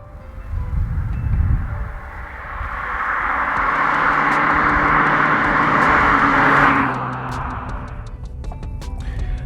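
A Volkswagen Lupo GTI pulls away, its small four-cylinder engine rising to a strong steady drone with a ticking clatter underneath, then easing off into lighter running with faint clicks.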